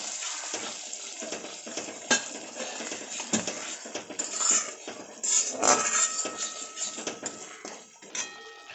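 Rui fish being mixed with cumin, chili and turmeric powder in a pan: irregular clinks and scrapes of a utensil against the metal over a light sizzle, fairly close, no talking.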